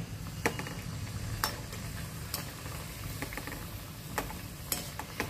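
A horse gram shengole dumpling fries in hot oil, producing a quiet, even sizzle with occasional sharp pops scattered throughout.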